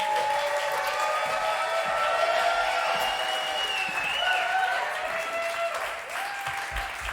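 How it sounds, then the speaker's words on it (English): A theater crowd at a showcase event applauds and cheers for a band, a continuous roar of clapping layered with whoops and shrill shouts, fading slightly near the end. "A big round of applause for"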